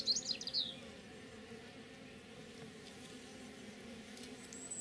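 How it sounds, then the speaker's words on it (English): Calm honey bees hum in a ZEST hive opened on a cold day, giving a soft, steady, low drone throughout, with a few bright bird chirps at the start and a faint one near the end. "So we've got nice quiet bees."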